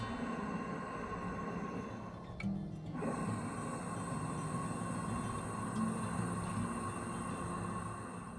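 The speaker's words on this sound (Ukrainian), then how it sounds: "зробити глибокий вдих зі звуком, схожим на храп" A person does a dragon breathing exercise, taking deep breaths with the throat muscles tightened so each breath rasps like a snore. A continuous, close, rough breathing noise fills the whole stretch.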